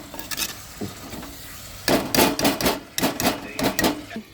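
A spoon stirs onions and tomatoes in a clay pot for chicken curry. Irregular knocking and scraping taps come close by, sparse at first and then in quick clustered bursts, with no talking.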